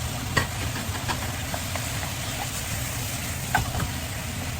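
Chicken and hard vegetables stir-frying for chop suey, a steady close sizzle with a few sharp utensil scrapes and clinks of stirring, no talking.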